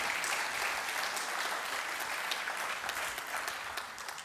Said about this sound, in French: Vous pouvez l'applaudir, parce que c'est quand même un vrai sujet.